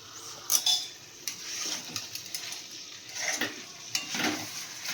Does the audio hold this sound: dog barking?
no